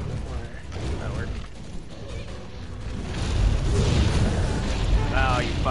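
Cannons firing in Monster Hunter World, heavy booming blasts with mechanical clanks over dense game noise, growing louder in the second half.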